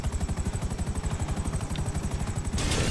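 A helicopter in a Grand Theft Auto game chops steadily with fast rotor thumps, loud and close, holding a constant rhythm before a burst of louder noise swells in at the end.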